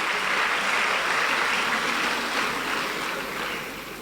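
An audience at an event in Warri claps together in a continuous, even wash of many hands, fairly distant and soft, trailing off slightly near the end.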